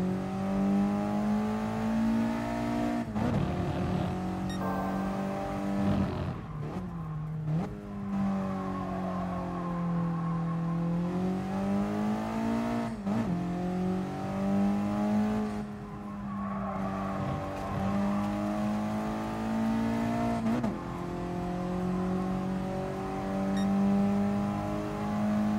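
A 1996 Mitsubishi Lancer Evolution 4 lapping in the racing game GT Sport, its engine droning continuously and rising and falling through gear changes, with bursts of tire squeal in the corners.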